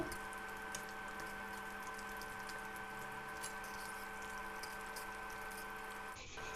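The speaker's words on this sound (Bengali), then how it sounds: "মাছগুলোকে ভালো করে উল্টে পাল্টে ভেজে নেব" Rohu fish pieces sizzle in hot oil in a kadai as they are turned over, a continuous, fairly quiet frying hiss that ends in a brief shift just before the clip stops.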